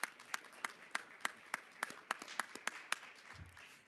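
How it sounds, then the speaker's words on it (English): Sparse, rhythmic clapping at a public policy congress honoring Mayor Ras Baraka, individual claps spaced evenly and fairly faint over a quiet room. "so give him a round of applause"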